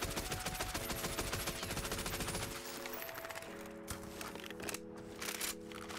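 Odin assault rifle with FMJ rounds in Warzone firing rapid sustained bursts, a dense stream of loud close gunshots that breaks off partway and continues in shorter bursts over an ongoing game background tone.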